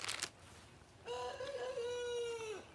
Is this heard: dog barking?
no